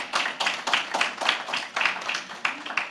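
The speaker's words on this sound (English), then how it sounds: "Let's give a round of applause." Audience applause after a women-and-girls-in-science panel discussion, a steady wash of many hands clapping at moderate loudness with no voices.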